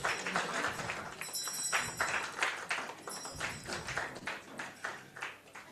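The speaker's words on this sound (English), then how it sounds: "Please keep clapping." Quiet clapping from an audience at a membership month launch event, with an uneven, patchy rhythm of individual claps and light taps sustained throughout, heard from a distance.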